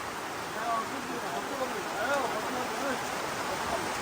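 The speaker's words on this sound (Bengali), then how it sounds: "চতুর্দিকে বৃষ্টি শব্দ টিনের চাল এবং চা পাতার গন্ধ" Steady rain pattering on the tin roof of a temporary storage shed near the Sylhet border, a dense continuous hiss filling the whole stretch with faint voices underneath.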